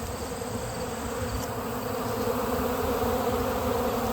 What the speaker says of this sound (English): Now those are some very happy bees. They are going crazy on this bucket.